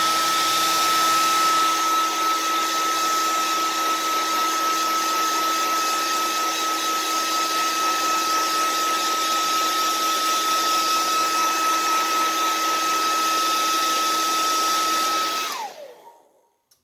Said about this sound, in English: Hit it with the hair dryer a bit.